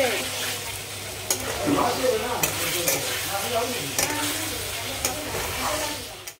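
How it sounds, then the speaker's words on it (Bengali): Potatoes sautéing in a hot pan for a dinner of aloo paneer matar, a steady sizzle broken by repeated scraping stirs of a spoon against the pan, close and continuous, with a voice talking at times. "আলুটা দিয়ে একটু ভালো করে কষিয়ে নেবে।"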